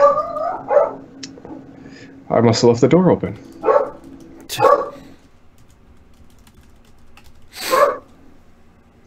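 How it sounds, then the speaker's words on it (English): A dog barks a few times, short, fairly near barks, mixed in with people talking and brief tapping noises. "A bark."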